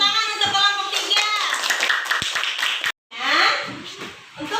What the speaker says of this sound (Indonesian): Beri tepuk tangan untuk kelompok tiga